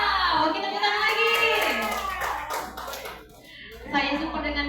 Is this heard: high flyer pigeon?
no